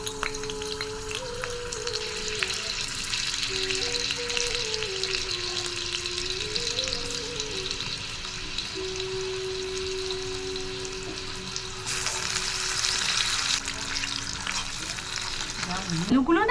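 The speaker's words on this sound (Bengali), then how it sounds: "আলুগুলো না হালকা ভাজা হয়েছে" Potatoes fry in hot oil in a small kitchen, giving a continuous dense sizzle with occasional stirring. A soft melodic tune runs underneath, and the frying swells slightly louder near the end.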